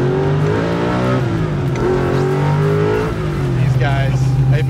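A 750-horsepower engine in a 1967 Camaro revs loud and close with a steady, rising and falling drone, and a voice talks over it throughout.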